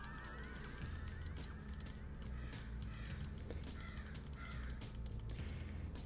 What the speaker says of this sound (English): those crows are loud today